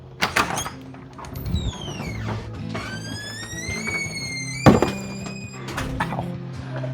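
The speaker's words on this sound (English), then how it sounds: "hit the door" A door is struck during a garage cleanup while items are carried inside, giving a sharp thunk near the start and a louder knock about two-thirds through, with squeaky rustling and shuffling around them and no talk.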